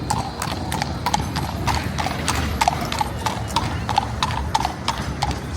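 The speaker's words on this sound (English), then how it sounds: "I think this horse is stalking me." A horse walks along a street in Blackpool, its hooves clip-clopping in a steady, close, even rhythm against light outdoor background noise.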